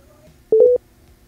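Telephone keypad dialing a number, three quick beeping DTMF tones in a tight cluster, brief and moderately loud over a faint background hum.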